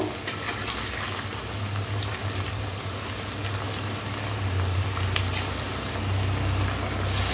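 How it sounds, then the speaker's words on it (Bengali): Potato french fries deep-fry in oil as a dense, continuous close crackling hiss that stays loud and even throughout. "একটু সময় ধরে খুব সুন্দর করে মুচমুচে করে ভেজে নেব।"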